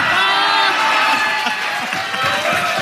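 A game show studio audience cheers and shouts over an answer, a loud, close burst of mixed voices and whoops that carries on steadily before easing slightly.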